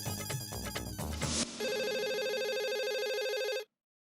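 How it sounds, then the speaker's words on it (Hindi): A telephone on a call to a marriage bureau rings with a steady, repeating electronic tone after a short burst of music. It is loud and alone, then cuts off abruptly. "अब इस वक्त मैरिज ब्यूरो में फोन करता हूँ"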